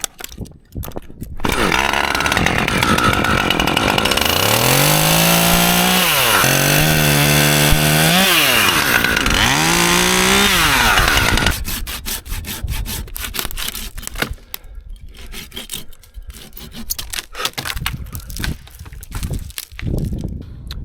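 A chainsaw cuts through a broken tree branch, its engine roaring loud and close with pitch rising and falling as it bites into the wood, then dropping to a sputtering idle with rustling.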